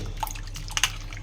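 Potatoes being washed in water by hand in a village-style kitchen, giving a few soft drips and light splashes over a brief quiet moment.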